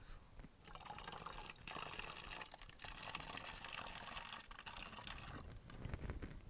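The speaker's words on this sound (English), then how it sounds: "And then you put in some hot water." Hot water, just boiled and cooled a little, pours into a clean bottle already holding some cool water, a steady liquid splashing and filling sound for several seconds with no talking.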